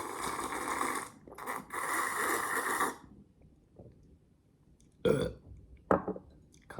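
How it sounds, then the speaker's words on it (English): A long, loud, gravelly burp after drinking coffee rumbles for about three seconds with a short break partway through, followed by quieter shuffling and small handling noises nearby. "Coffee burp."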